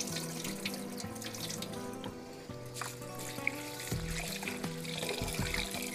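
Rice being gently rinsed by hand in water in a kitchen, a steady soft run of tap water and sloshing that carries on for the whole stretch over a low mixture of sounds, with no talking.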